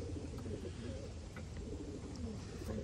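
Racing pigeons, including young birds back from training, coo steadily in a loft, a low murmuring chorus of overlapping coos with no break.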